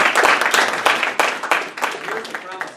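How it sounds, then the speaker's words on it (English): Audience applause at a senator's town hall in Londonderry, dense clapping from a crowd that swells and tapers over nearly three seconds, fairly loud and close, with voices mixed in. "How about a round of applause for this young lady?"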